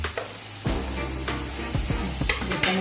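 Beef liver with tomato paste sautés in a pan, a sudden loud sizzle bursting in and continuing as a spatula scrapes and stirs in several quick strokes.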